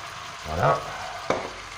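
Veal kidney cooking gently in a pan gives a soft bubbling sizzle, with a louder swell near the middle and a brief sharp crackle toward the end.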